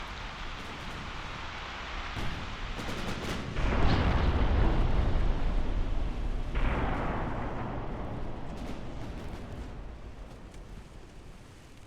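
Heavy battleship gunfire in the naval game Ultimate Admiral: Dreadnoughts, a deep booming blast that rolls into a long rumbling roar, followed by a second surge over a constant low background.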